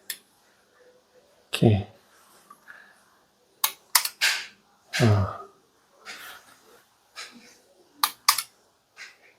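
Sharp, close clicks from the button of a Sonoff ZBMini-L2 Zigbee smart switch, several crisp presses spaced irregularly, with someone briefly speaking.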